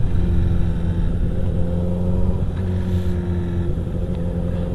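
A Honda CBR1000RR motorcycle engine rumbles steadily at close range on a city road at night, with a slight rise and fall in revs and no voices.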